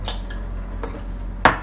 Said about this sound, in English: we'll whisk that like crazy now to get that all blended really well